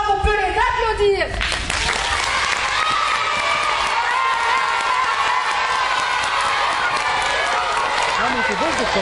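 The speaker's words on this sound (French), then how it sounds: "je crois qu'on peut les applaudir" After a brief spoken line, an audience bursts into sustained applause and cheering for children at a theatre show, broad dense clapping continuing steadily to the end.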